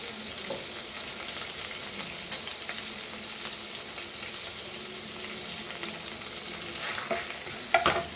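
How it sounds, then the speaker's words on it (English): Curry leaves crackling and sizzling in hot oil in a pan for Goan prawn masala, a continuous close frying hiss with small spits and pops, brief stirring clinks near the end. "now we will add our curry leaf in this"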